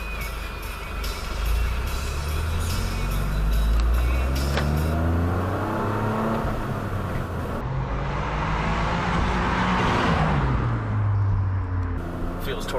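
A Toyota GR Corolla engine pulls hard while driving, its note climbing steadily as the revs build, with road and cabin noise throughout and a voice talking over it.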